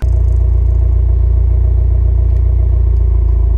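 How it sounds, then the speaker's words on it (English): A 2022 Subaru WRX's sports exhaust gives a deep, steady engine rumble with a pulsing exhaust note, loud and continuous from start to finish, with no talking. "The sports exhaust sounds good."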